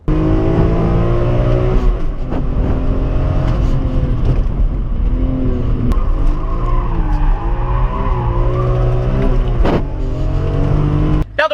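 A BMW M3 drifting with traction control off, its tires squealing loudly and continuously over a steady roaring engine, close and dominant throughout.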